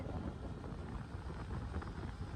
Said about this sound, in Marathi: सो इथे वारं खूप आहे